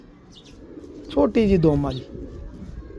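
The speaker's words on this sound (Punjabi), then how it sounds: "ਛੋਟੀ ਦੁਮ ਵਾਲਾ ਕਬੂਤਰ ਜਨਾਬ" A short-tailed pigeon gives a brief, close coo in the middle, while someone talks nearby.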